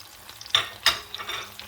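Garlic, onion, bell pepper and tomatoes frying in a pan for a Tunisian sauce, a soft continuous sizzle punctuated by two louder stirring scrapes, close and unaccompanied by speech.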